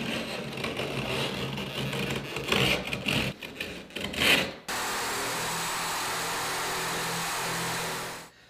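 A utility knife scrapes and cuts back drywall at a door opening, rough rasping strokes in short bursts, followed by a steady background hiss.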